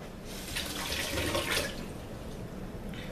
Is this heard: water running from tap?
yes